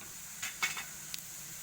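Coriander seeds roasting in a pan are stirred with a few soft, quick scraping strokes, faint and close, with a light dry sizzle underneath and no talking.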